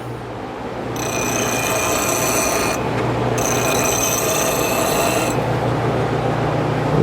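A wood turning tool being sharpened on a grinder in a workshop, a loud continuous grinding hiss with two bursts of harsh high-pitched metal scraping over a steady motor hum.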